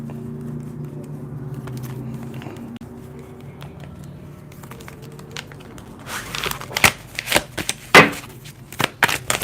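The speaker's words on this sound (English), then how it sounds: "I'm still shuffling, still getting to the energy." Tarot cards being shuffled, a run of sharp crisp riffles and taps growing louder toward the end, close and dry over a low background hum.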